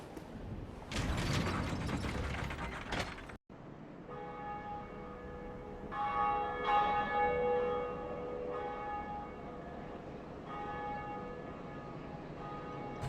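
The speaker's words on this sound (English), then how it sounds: "And now, we ring the bell." A bell rings in the video game Dark Souls after a lever's grinding, ratcheting mechanism, followed by sustained, resonant church-bell tones that fade slowly, with no talk.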